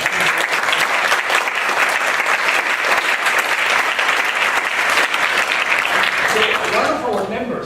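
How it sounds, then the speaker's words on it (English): A large audience applauds the Georgetown University Orchestra with a dense, steady burst of clapping that holds loud for about seven seconds, then begins to thin out at the very end. "I want a big applause to the members of the Georgetown University Orchestra"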